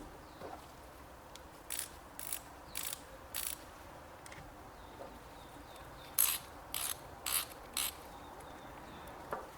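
Small ratchet wrench giving short bursts of soft clicking, a few quick groups of clicks spaced out over a quiet background, fairly faint and close.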